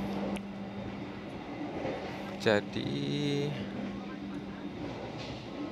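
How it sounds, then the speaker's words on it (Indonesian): Interior rumble of the Argo Wilis stainless steel passenger train slowly pulling out of Surabaya, a steady broad drone with a brief clatter midway and a person speaking briefly over it. "kereta api Argo Wilisnya perlahan sudah mulai meninggalkan Surabaya."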